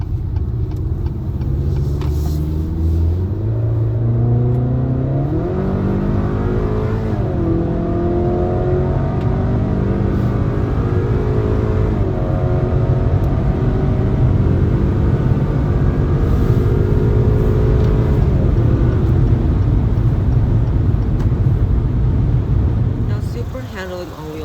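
A 2023 Acura RDX A-Spec SUV accelerates hard, its engine note climbing through several rising gear sweeps with short dips at each shift, loud and close over a constant road rumble.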